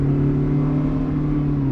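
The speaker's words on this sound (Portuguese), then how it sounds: "Outra coisa que era muito legal era o desempenho do motor." A 1993 Toyota Corolla LE with automatic transmission climbing a hill, its engine giving a steady low droning hum at moderate revs, loud and close with no talk.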